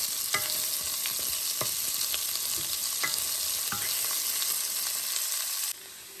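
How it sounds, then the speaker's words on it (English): Pork ribs with green onion sizzle in a pan after the heat is shut off, with a steady frying hiss and several sharp scrapes of a utensil stirring, then the sizzle drops suddenly. "And shut off the heat and stir it."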